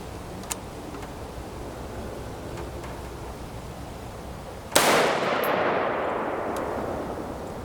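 A single sharp gunshot from a rifle with a 10.5 inch barrel and 1-7 twist, firing 5.56x45mm 55-grain M193 Bulgarian surplus ammunition, cracks loud and close over steady outdoor background noise, with a long decaying echo afterward.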